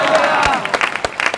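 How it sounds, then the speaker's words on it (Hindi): Applause from the congregation at the Navapur church convention: a brief, loud burst of clapping with sharp individual claps standing out as it tapers, and voices calling out amid it. "बस ताली बजा के बोलिए हालेलुया"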